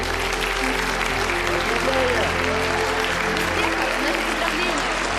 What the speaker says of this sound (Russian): И так мы объявляем начало презентации под ваши бурные аплодисменты.